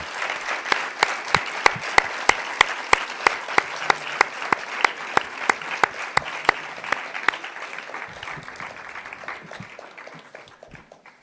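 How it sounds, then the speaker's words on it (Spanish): A crowd applauds steadily for several seconds at a Latin American social sciences congress, a dense wash of many hands clapping close by, gradually thinning toward the end. "Un aplauso para que"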